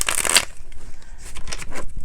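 A deck of cards riffles in a quick, crisp burst, followed by softer flicking and tapping as the cards are handled.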